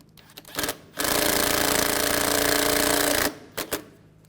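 A power tool drives screws into the AC condenser of a 2007-2013 Mini Cooper, a loud continuous whirring buzz lasting about two seconds, framed by short clicks and brief bursts before and after.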